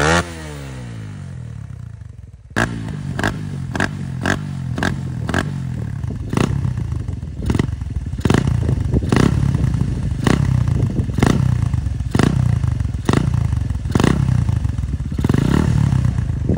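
Suzuki Raider FI motorcycle fitted with a Chukigi power pipe exhaust, idling then blipped through a series of sharp, evenly spaced revs, loud and close with no talking.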